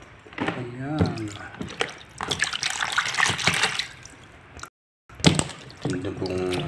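Tap water running over fish being washed in a home kitchen, a steady splashing flow in short stretches under someone speaking.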